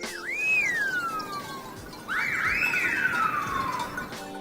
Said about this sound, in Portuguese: os idiomas de assobio usados por alguns povos para se comunicar à distância